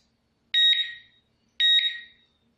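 A GSM alarm system panel gives two identical sharp electronic beeps, each about half a second long with a brief fade, spaced about a second apart against silence.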